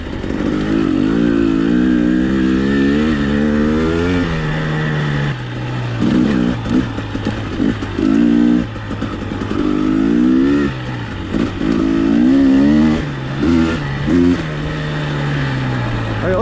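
A 2021 KTM-style 300XC two-stroke dirt bike ridden on a mountain trail, its engine repeatedly revving up and easing off in rising and falling sweeps, loud and close with wind noise, and clattering over rough ground.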